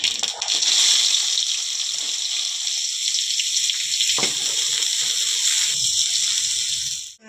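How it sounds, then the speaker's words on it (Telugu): Onion sizzling in hot oil in which bitter gourd pieces were fried, for a curry tempering, a steady broadband hiss running throughout with a brief clink near the middle, no talking. "కాకరకాయలు ఎంపిన నూనెలో ఉల్లిగడ్డ గిట్టంగా తాలింపు వేస్తున్నాం"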